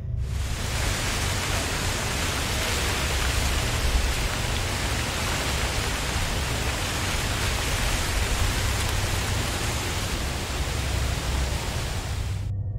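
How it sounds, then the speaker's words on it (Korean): Steady wind blowing across open grassland fenced at the edges, a dense, even hiss that sounds much like rain falling, constant and close throughout with no voices. "다만 지금 들리는 것처럼 바람 소리는 우리에게 마치 빗소리처럼 들립니다."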